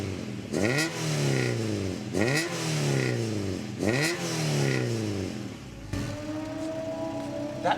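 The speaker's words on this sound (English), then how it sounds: "could you give it a couple of presses?" Spoon-tuned EK9 Honda Civic Type R engine blipped three times in quick succession, each rev rising sharply and falling back, then settling into a steady idle, close by with no talking.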